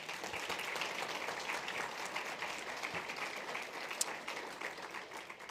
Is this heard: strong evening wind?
no